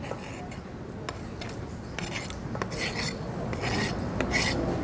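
Mango ceviche being scraped off a cutting board into a bowl, giving repeated rasping, rubbing strokes in short bursts that grow slightly louder toward the end, close by with no talking.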